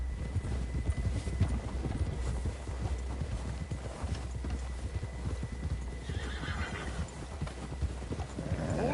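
A horse gallops across open ground in Red Dead Redemption 2, hooves clip-clopping in a quick steady rhythm with an occasional whinny, close and continuous throughout.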